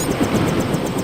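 Helicopter in the video game Deus Ex, a steady low rotor and engine drone with faint rhythmic blade chop, continuous and fairly close throughout, no voices.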